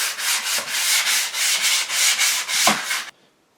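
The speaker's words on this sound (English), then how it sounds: "I'm just going to rough it down a little bit with some sandpaper." Steady back-and-forth scraping of sandpaper rubbed over wood by hand, a quick regular rhythm of strokes, close up, ending abruptly.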